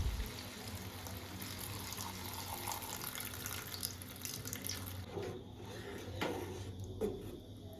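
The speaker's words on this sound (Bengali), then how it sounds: "এবারে দিয়ে দেব পরিমাণ মতো জল।" Water pours steadily into a wok of mixed vegetables being cooked Bengali restaurant style, a continuous close splashing stream that eases off near the end.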